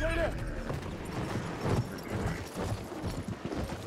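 Horse galloping in the Battlefield 1 video game: rapid, continuous hoofbeats under game noise, with someone talking over them.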